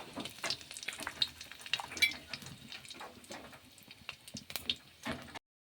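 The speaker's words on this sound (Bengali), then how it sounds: "তেলে আমি জিরে ফোড়ন দিয়ে দিলাম, লঙ্কাগুলো মাঝখান থেকে চিড়ে দিয়েছি" Cumin seeds and slit chillies sizzle in hot oil, giving faint, close crackling with scattered sharp pops over about five seconds before going silent.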